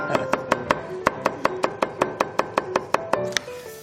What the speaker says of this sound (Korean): 다 비슷한 굵기로 썰어주는 게 맞습니다